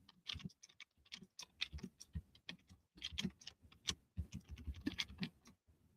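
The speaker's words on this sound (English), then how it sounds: "But let me just type it in." Typing on a computer keyboard, quick irregular clicks and taps in short bursts, close but quiet, with no talking.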